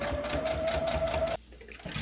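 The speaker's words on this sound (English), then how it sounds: "we're going to stitch along those metered corners" Sewing machine running steadily as it stitches the corners of a fabric pillow stuff sack, a close, continuous mechanical whir that stops abruptly partway through, followed by quiet handling sounds.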